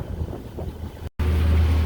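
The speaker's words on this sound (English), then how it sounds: "Now this side is windy." Wind rumbles over a sailboat on the Erie Canal as low, steady buffeting against the microphone. A brief dropout cuts the sound, and then it returns stronger.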